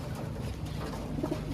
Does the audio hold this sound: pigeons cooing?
yes